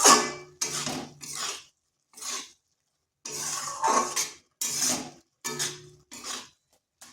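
Garam masala being added to spinach curry in a pan, heard as a series of short scraping and clinking bursts from a spoon against the pan, close by, separated by brief pauses.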